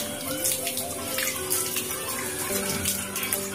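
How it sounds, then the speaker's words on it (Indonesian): Running water pours over Tambat Sapi plant stems, a steady close splashing flow like a tap into a basin, continuous and fairly loud with no talk. "Jadi kita sebelum merendam kita cuci dulu agar batangnya ini basah."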